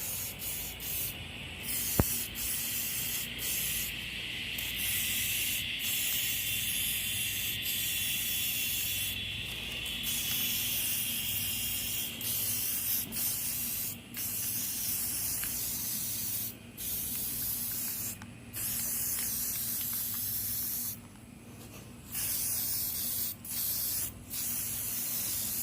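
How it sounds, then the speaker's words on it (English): Spray paint hisses from an aerosol can in repeated bursts of several seconds each, separated by short pauses, as parts of a Cub Cadet 102 garden tractor get light coats of paint. "now we're going to painting"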